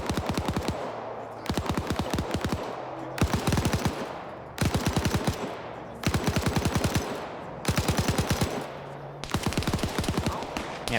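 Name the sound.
machine gun fire from a video game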